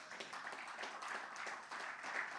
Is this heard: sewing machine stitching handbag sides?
no